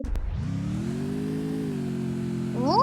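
A motorbike engine in the video game Free Fire idles then revs up, a steady mechanical drone rising in pitch toward the end.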